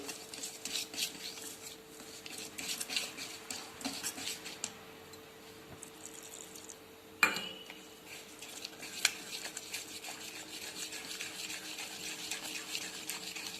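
Dhokla batter made with buttermilk being stirred in a bowl, soft wet swishing with light scraping and a few sharp clinks of the spoon against the rim.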